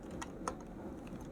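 A few quiet, close keystrokes on a computer keyboard while typing code, spaced irregularly over a moment with no talking.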